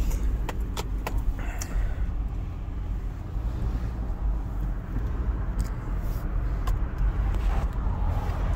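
A lifted Toyota 4Runner pulling onto a road, a steady low engine and road rumble with wind buffeting and occasional rattles and clicks, no talk.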